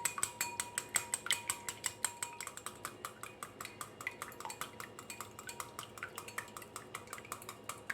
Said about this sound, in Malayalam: ഇതിലേക്ക് 1 ടീസ്പൂൺ വാനില എസൻസ് കൂടെ ഒന്ന് നമുക്ക് ഒഴിച്ചു കൊടുത്തിട്ട് നന്നായിട്ടൊന്ന് ബീറ്റ് ചെയ്യാം